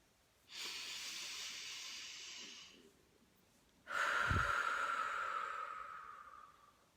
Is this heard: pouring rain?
no